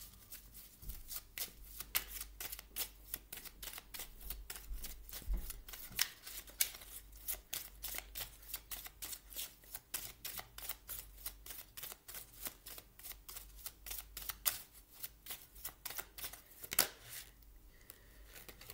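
Tarot cards are handled and shuffled in a quick, crisp, continuous riffle of flicks and snaps lasting nearly twenty seconds. The sound is close and fairly quiet, with no talking.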